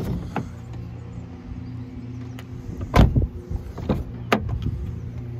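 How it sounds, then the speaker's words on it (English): A car's power-folding door mirrors whir as their motors run, with a brief electric hum and a couple of sharp clicks and thumps as they lock into position, close up with no talking. "Power folding mirrors"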